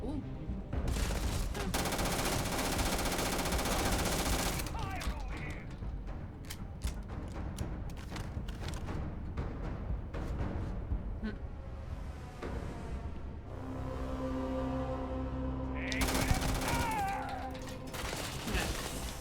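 Bursts of weapon fire in the space shooter Starfield: rapid clustered shots in repeated volleys with broadband crackle, moderately loud, some passages under a talking voice and game effects.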